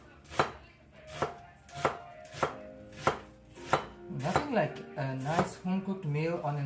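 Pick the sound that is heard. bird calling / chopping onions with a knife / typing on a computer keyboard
chopping onions with a knife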